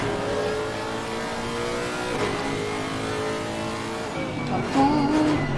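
A race car engine in the video game Assetto Corsa Competizione drones steadily at high revs during an endurance race at Brands Hatch, with a brief squeal near the end and faint talk underneath.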